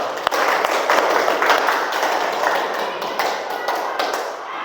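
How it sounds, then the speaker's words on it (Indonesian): Applause from a classroom of students after a group presentation, a steady dense patter of clapping hands lasting several seconds at even loudness. "kita beri aplaus dulu"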